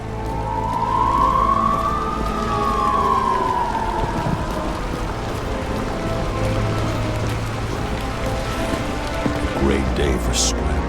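A wailing police car siren from the video game Nobody Wants To Die rises and falls once over a few seconds, heard against steady rain and a low background hum.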